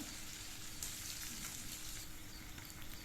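Chopped onion dropped into hot oil with garlic slices for a katvel vegetable dish, giving a steady, loud, dense sizzle that holds evenly throughout, with no talking.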